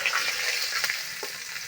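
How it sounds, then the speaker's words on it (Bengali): Snakehead fish fry in a wok over a village kitchen fire, giving a close, continuous sizzle and crackle with light scraping of a stirring utensil. "দেখুন বন্ধুরা, সব মাছ ভাজা হয়ে গেছে"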